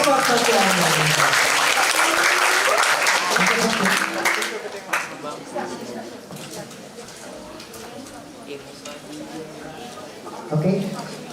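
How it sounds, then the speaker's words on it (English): Audience applause at a public health community empowerment seminar, loud and dense at first, then thinning and fading after a few seconds as a voice speaks over the tail end. "Let's give applause one more time for Professor Tokiami."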